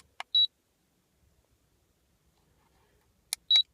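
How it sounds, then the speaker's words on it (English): Two short high-pitched electronic beeps from a Yashio Factory water temperature gauge, about three seconds apart, each preceded by a faint click, against near silence. "this is the beep."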